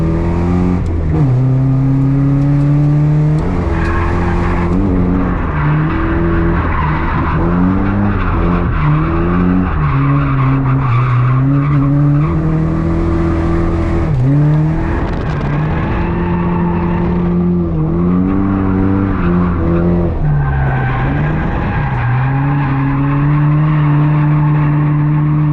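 A car drifting on a track, engine revving steadily while tires squeal and skid loudly almost without pause, the pitch rising and falling through the slides.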